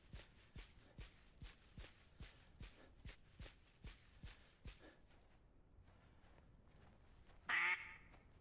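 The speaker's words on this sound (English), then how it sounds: "I thought I heard a quack." Ducks quack in the BULT video game: a steady run of about a dozen evenly spaced quacks, then quiet, with a short, louder burst of noise near the end.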